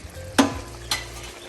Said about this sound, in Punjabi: ਇਦਾਂ ਹੀ ਭੁੰਨ ਲਓ ਜਿੰਨਾ ਤੁਸੀਂ ਹਨਾ ਤੜਕਾ ਭੁੰਨੋਗੇ ਉਨੀ ਵਧੀਆ ਗੋਭੀ ਬਣੂਗੀ